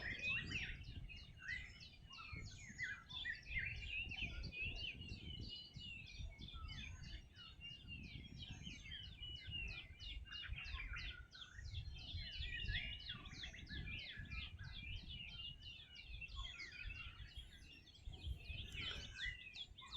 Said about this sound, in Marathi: पक्ष्यांची किलबिलाट आणि आवाज त्यांचा